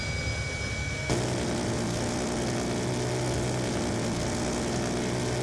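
A VTOL aircraft in Call of Duty: Black Ops 2 departs with a loud, steady engine roar that swells abruptly after a moment and then holds as a dense, continuous whoosh.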